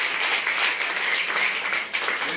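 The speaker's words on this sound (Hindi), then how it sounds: "विकास भाई के लिए एक बार जोरदार ताली होनी चाहिए।" Audience applause at a Modicare motivational seminar, a steady broadband wash of clapping that holds for about two seconds, briefly dips, then resumes, with no talk over it.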